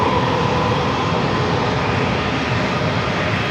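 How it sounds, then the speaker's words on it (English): Loud, continuous jet roar from a Southwest Boeing 737-700 arriving from Phoenix, a dense broadband rumble close by with no pauses. "Southwest, flight 1181 coming in from Phoenix in a 737-700."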